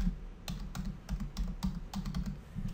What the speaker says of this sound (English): we're going to type in looking for opportunity